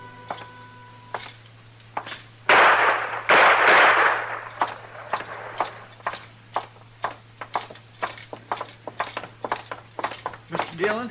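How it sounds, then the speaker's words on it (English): Gunshots and sharp impacts ring out in a Western radio drama set in a saloon, with a burst of loud noise followed by a long run of rapid, evenly spaced cracks close up, between stretches of dialogue. "Trimble come in, tried to shoot Cam Spiegel, and Cam killed him."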